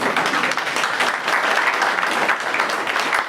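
Audience applause at a hospital ribbon cutting for a new behavioral health unit, dense and sustained clapping from a sizable crowd filling the whole moment at even loudness.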